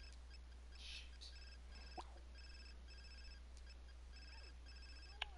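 Inside The Sims 4, an in-game telephone rings with repeated bright electronic trills, faint and thin over a steady low hum, with a few soft clicks between the rings and no talk.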